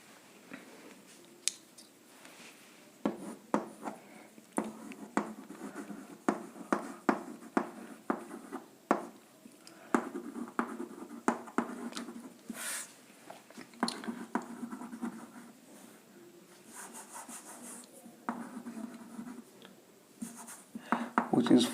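A teacher writes notes during a Class X chemistry lesson on acids, bases and salts, giving a run of close scratchy strokes and taps that come in bursts, with quiet pauses between them.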